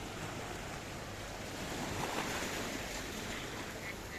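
Mediterranean Sea waves off the Paphos promenade in Cyprus, a soft continuous surf wash mixed with wind buffeting the microphone, quiet and steady with no voices.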